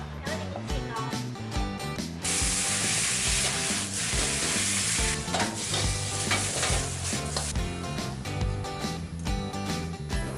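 Bacon and spinach stir-fried in a pan, with dense sizzling and frying noise and the scrape of stirring, loud and close, over music and some busy background sound.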